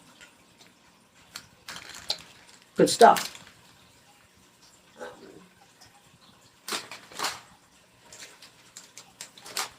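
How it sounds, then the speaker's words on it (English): Water spills during winter car emergency food prep, a couple of brief splashing bursts under nearby talk. "Spilling water again."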